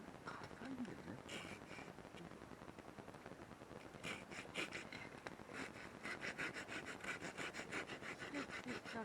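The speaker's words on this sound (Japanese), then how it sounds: "ノコギリで横に細かく切ったらこのまま。" A handsaw cuts crosswise through hard firewood beside a campsite bonfire, giving rough rasping strokes that settle into a fast, steady back-and-forth rhythm partway through, with people talking nearby.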